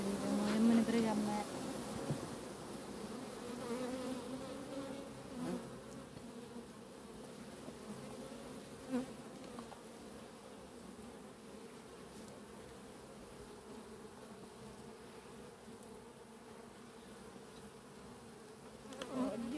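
Honeybees buzz steadily around an open beehive being cleaned of propolis while checking brood in autumn, a constant close hum under occasional faint talk and handling noise.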